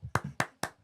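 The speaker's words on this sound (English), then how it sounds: "That is the first time in my life I've ever seen a woman clap her titties together." A woman slaps her bare breasts together, three sharp fleshy smacks in quick, even succession, close and distinct, each followed by brief quieter contact sounds.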